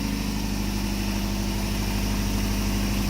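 A Honda Civic with an H22 engine idles steadily close by, a smooth continuous low drone with an even pulsing rhythm, heard alone without voices.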